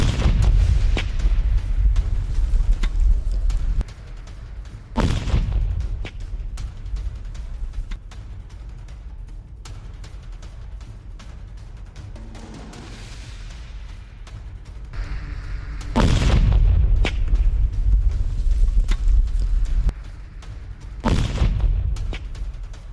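Ukrainian weapons are destroyed in a series of explosions: several deep, heavy booms with rumbling low-end bursts, separated by quieter stretches of wind-like noise, loud and distant-sounding, with no voices.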